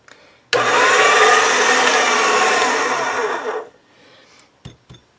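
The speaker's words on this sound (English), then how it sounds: "let me just run this through the pasta machine one time" Polymer clay sheet fed through a motorized pasta machine during a ladybug charm project, giving a loud steady whirring motor drone for about three seconds, starting abruptly and stopping, followed by a few faint clicks.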